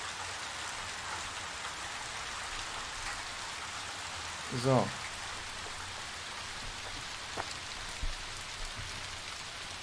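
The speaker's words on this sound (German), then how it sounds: "Jetzt wo es regnet, finde ich, ist das gar nicht so schlecht." Steady rain falls in the video game Little Nightmares 2, a soft, even hiss that continues throughout with a brief faint creak and a few small knocks over it, and a single short spoken word.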